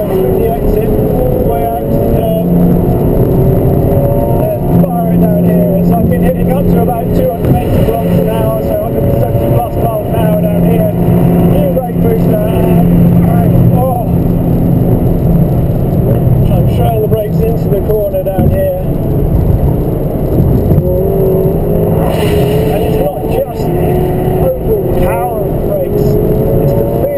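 A Porsche 718 Boxster GTS 4.0 with a six-speed manual pulls hard on a freeway at night, its engine a steady loud drone with rising pitch sweeps under road and wind noise.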